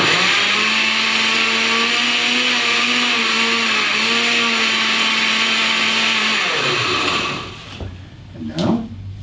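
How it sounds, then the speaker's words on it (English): A countertop blender runs loud and steady for about seven seconds, its motor whine holding a constant pitch as it purees kale into a green smoothie, then cuts off, leaving brief quiet handling noises. "So let's go ahead and let's add some kale to our smoothie. Here we go. And let's blend that up."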